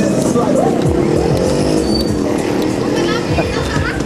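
Motorized tricycles rumble past on a street, their buzzing engines loud and continuous with rising and falling passes, while a person talks over the traffic.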